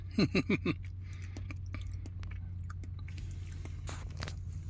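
Several quick crunchy bites into crispy grilled rat come first in a fast cluster, followed by softer chewing and scattered crackles over a low steady background hum.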